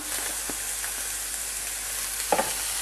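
Quinoa paella sizzling and frying in a pan as it is stirred, a steady hiss with a few soft scrapes and a brief clatter near the end.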